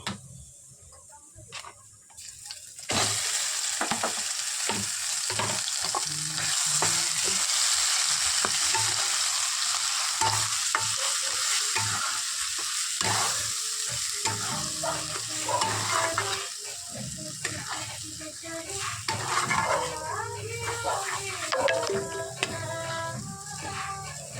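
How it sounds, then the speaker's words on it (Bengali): Pea (matar shutir) kachori filling being stirred in a hot pan with a little oil. A few seconds of quiet give way to a continuous loud sizzle with repeated scraping and tapping of the spoon. No talking. "যতক্ষণ না পর্যন্ত জলটা টানবে ততক্ষণ নেড়ে যাব"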